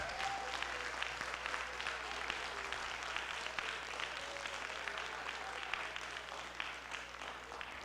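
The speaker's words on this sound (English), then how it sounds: "let's give them another round of applause" A crowd gives sustained applause for REACH scholars at a school board meeting, a steady wash of many hands clapping, fairly faint and distant, with faint voices in the background.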